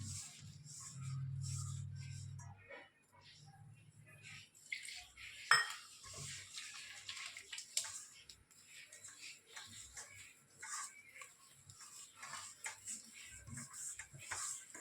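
Flour batter for gobi manchurian being mixed with a little water produces quiet, irregular wet stirring and scraping sounds against a bowl, with occasional light clinks, close and faint.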